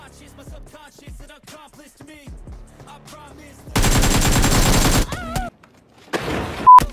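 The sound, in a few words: gunfire in PUBG Mobile video game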